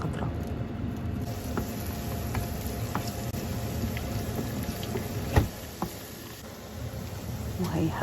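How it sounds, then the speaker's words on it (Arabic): Garlic fries with fresh green coriander in a hot pan, giving a continuous, even sizzle and crackle, with a sharp pop around the middle and occasional small spits. "هلا هون بدي اقلي الثوم مع الكزبرة الخضراء"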